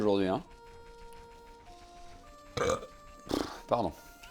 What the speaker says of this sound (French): Des fois je rote comme ça dans la maison